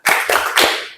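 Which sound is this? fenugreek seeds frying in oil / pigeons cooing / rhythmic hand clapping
rhythmic hand clapping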